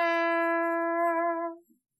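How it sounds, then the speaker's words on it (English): A brass trombone sounds one sustained, steady note with strong harmonics, held clearly and close for about a second and a half before it cuts off, with no talking. "here's the sound of the brass trombone"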